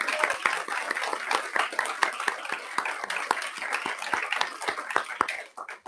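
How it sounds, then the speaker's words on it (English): Small group at a school governing board meeting clapping, distinct sharp claps in a loose, uneven rhythm, fairly quiet, fading at the end. "Now we can do the clapping."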